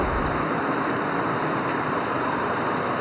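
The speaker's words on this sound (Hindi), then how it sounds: "लाहौर में 171 मिलीमीटर की तूफानी बारिश" Heavy stormy rain pours down over Lahore, a dense, steady roar of falling water that fills the whole stretch at close range, with no voices or other sounds breaking through.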